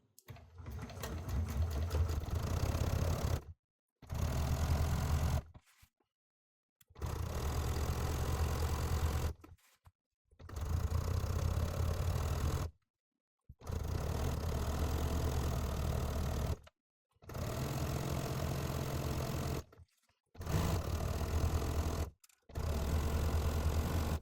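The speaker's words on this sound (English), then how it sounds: "now that I've got a shortened stitch length, I am going to sew these strips together" A sewing machine joins fabric strips into a strip set, running in repeated steady bursts of several seconds each, with brief silent pauses between runs, close and even in tone.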